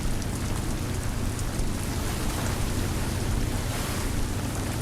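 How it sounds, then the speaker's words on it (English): Heavy rain pours down during a storm at sea, a dense, even hiss of drops that stays loud and constant with no pauses or voices. "The storm's easing up"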